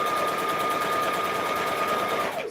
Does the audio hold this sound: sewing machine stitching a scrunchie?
yes